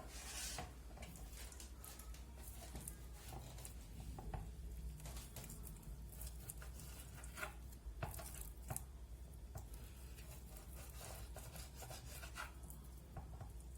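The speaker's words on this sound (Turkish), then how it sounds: "Bunları ince ince aynı dönerdeki şey gibi keseceğiz" Knife slicing chilled chicken into thin döner-style strips on a board, steady soft rubbing strokes with light scraping clicks, close and continuous without talk.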